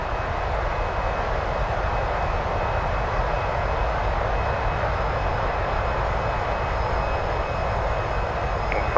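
Engines of a TFDi Design MD-11 airliner in the Microsoft Flight Simulator game on a long-haul flight from Las Vegas to Honolulu, a loud, steady broadband roar with a thin whine held throughout, no talking.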